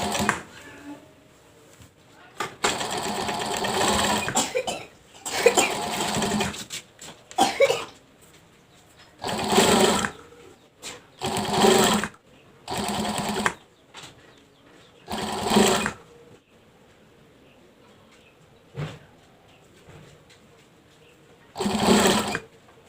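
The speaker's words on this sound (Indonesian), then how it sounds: "Ini setelah kita jahit di bagian kerah ya" A sewing machine stitches a shirt collar in a home sewing lesson, running in about eight separate loud bursts of rapid whirring with quiet pauses between them.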